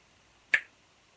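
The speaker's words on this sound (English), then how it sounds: "if I snap my fingers" One crisp finger snap, close and sharp, in an otherwise quiet room.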